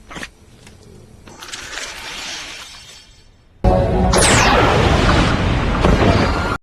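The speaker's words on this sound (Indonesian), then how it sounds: "Neil benar-benar terkejut saat mendapati kelasnya hancur oleh pesawat alien" An alien spaceship crashes into a classroom, a quieter rumbling build-up giving way to a sudden loud smash with glass shattering and debris crashing that sustains to the end.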